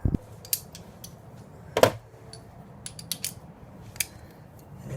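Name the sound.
torque wrench with extensions and crowfoot tightening shocks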